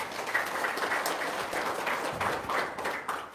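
Seminar audience applauding on cue, a fairly faint, continuous wash of many hands clapping for a few seconds with no talk over it.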